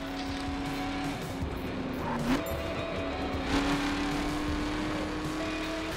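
A car cruises down an open highway in the racing video game The Crew, its engine holding a steady, loud droning hum throughout, with a brief rise in pitch near the middle as it shifts or accelerates.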